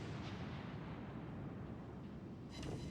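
Low, rumbling naval gunfire from the Prinz Eugen firing HE shells in World of Warships: Legends, a continuous deep boom and roll with a brighter crack near the end, fairly quiet.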